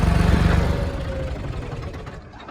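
A John Deere 5310 4x4 tractor engine runs steadily with a low, knocking diesel rumble, loud at first and easing slightly over the few seconds, with no talk.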